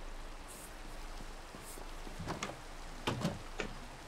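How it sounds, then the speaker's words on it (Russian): Steady rain falling in the Minecraft video game, a constant soft hiss throughout, with a few brief knocks and thuds near the end. "И хотелось бы, чтобы этот дождь надоедливый прошел уже."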